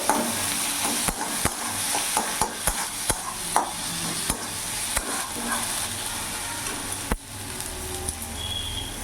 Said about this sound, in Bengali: হলুদ গুঁড়ো দিয়ে দিলাম ভালো করে মিশিয়ে নেবো